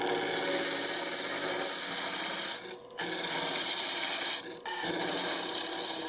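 A lathe tool scrapes across a spinning wooden segmented yarn bowl in a continuous harsh rasping hiss, broken by two brief pauses where the cut lifts off, close and loud.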